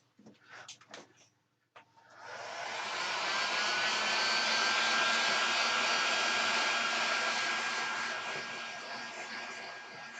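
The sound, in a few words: heat gun shrinking heat shrink tubing on a cable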